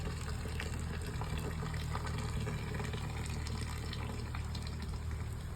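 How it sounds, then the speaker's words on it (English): Hot maple syrup poured slowly from a warm pot, a soft continuous liquid trickle and gurgle held steady throughout under a broad low outdoor hum, with no talking. "Then you very slowly pour it out."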